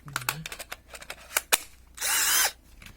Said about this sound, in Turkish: Şimdi isterseniz delme testine geçelim.